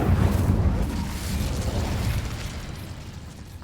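An Incendio fire spell erupts in Hogwarts Legacy, a loud low whooshing burst of flame that rumbles heavily at first and then gradually dies away.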